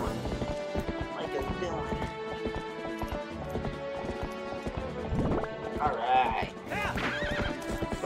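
Horse galloping with clip-clop hooves and neighs in the video game The Legend of Zelda: Twilight Princess, steady hoofbeats throughout with a whinny near the end, under game music and a talking player.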